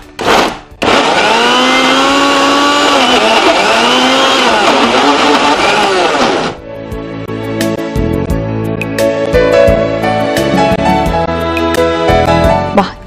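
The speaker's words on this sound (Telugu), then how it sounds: "నువ్వుల్ని దంచాలంటే చాలా ఎక్కువ టైం పడుతుంది కాబట్టి నేను మిక్సీ చేసేస్తాను." A kitchen mixer grinder runs loud and steady on sesame seeds for about six seconds, its whine shifting slightly, then cuts off and gives way to other background sounds.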